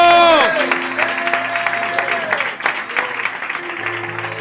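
A church congregation in Villaverde claps during an anniversary service. The clapping starts under a fading sung or sustained tone and continues as steady broadband applause, with organ or keyboard notes held beneath it.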